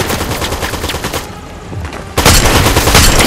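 DMR rifle in Fortnite fires rapid loud shots, a dense burst for about a second, then a lull and a second sustained volley of gunfire to the end, with no speech.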